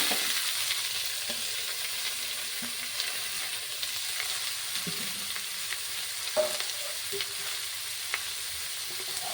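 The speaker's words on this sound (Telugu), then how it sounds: "ఇందులో ఇప్పుడు మనం ముందుగా కట్ చేసి పెట్టుకున్న దోసకాయ ముక్కలు వేయించుకుందాం." Cut cucumber pieces frying in hot oil in a pan, a steady close sizzle with occasional faint pops and light taps.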